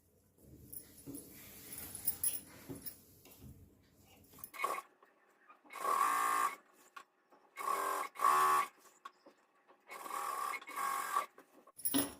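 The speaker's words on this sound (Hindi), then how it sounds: "सेम इसी तरह से जो हमारा दूसरे साइड वाला आसन है उसको भी सिल लेना है।" Sewing machine stitching the side seam of an Afghani salwar, running in several loud bursts of a few seconds each separated by quiet handling pauses, close by.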